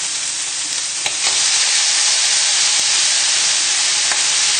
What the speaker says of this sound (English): give the bacon another little stir, and then in with the cabbage,